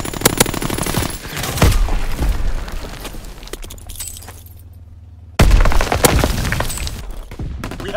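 Rapid machine-gun bursts and heavy booming shots crackle through a war video game battle, loud and close, easing into a low drone before another sharp volley breaks out.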